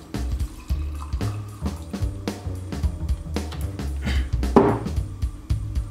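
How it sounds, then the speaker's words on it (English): Homemade pumpkin pie wine is poured from a bottle into a glass, a close, continuous gurgling trickle with small splashes for several seconds, with no voices. "break out a bottle of last year's pumpkin pie wine and pour myself a glass"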